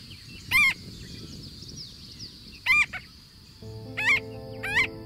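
Four short, loud honking calls from geese or similar fowl sound at irregular intervals over a low, steady outdoor background with a faint hum.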